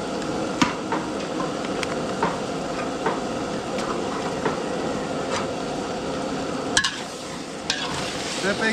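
Chicken frying in a pan with garlic and onion while a utensil stirs and scrapes it, a steady close sizzle with irregular clicks and knocks through the whole stretch.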